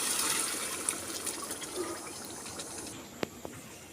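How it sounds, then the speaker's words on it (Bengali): Water is poured into a pot of spiced boiled peas for ghugni, a running splashing pour that fades after about three seconds, followed by a couple of sharp clinks. "মটরটা দিয়ে অল্প পরিমাণে আমি একটু জল দিয়ে দিয়েছি।"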